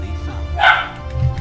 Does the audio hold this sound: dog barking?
yes